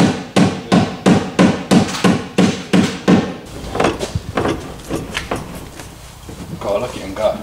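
Hammer blows strike a car's wheel arch during arch rolling, about ten sharp, evenly spaced metallic knocks up close, then lighter irregular taps with clattering and scraping.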